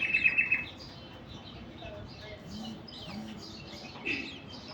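Caged Gouldian finches and other finches chirp and tweet in quick, scattered bursts, with a louder burst of high chatter at the start over a steady low background hum.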